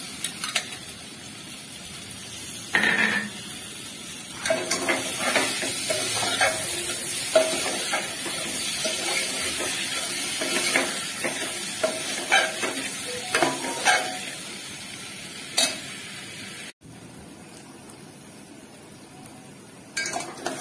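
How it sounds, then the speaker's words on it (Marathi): Tomato frying with red chili powder in a pan, a steady sizzle broken by scrapes and clinks of a spoon against metal, close and fairly loud, with no one talking. "इथे टोमॅटो टाकून नंतर तो व्यवस्थित असा छान असा भाजून घ्यायचा आहे आपल्याला"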